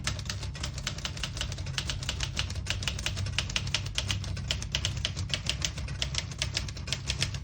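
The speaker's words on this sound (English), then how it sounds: "I'll type a sentence on the next line." Rapid, even clacking of an Olivetti Lettera 31 vintage portable typewriter, keys striking in a quick continuous rhythm for several seconds.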